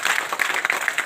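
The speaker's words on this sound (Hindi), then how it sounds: "बजाइए ताली, 2 हाथ का आप लोग" Audience applause at an outdoor street magic show (madari jadu khel) in India, a brief burst of many hands clapping, dense and fairly steady, without speech over it.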